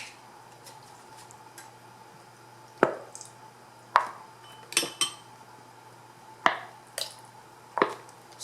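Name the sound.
ketchup being added to garlic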